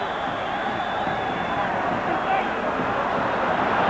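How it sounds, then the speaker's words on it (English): Stadium crowd at a 1998 World Cup qualification play-off between Iran and Australia, a broad steady roar of fans warming to home side Iran, heard under a commentator's voice. "the crowd are starting to warm to the home team"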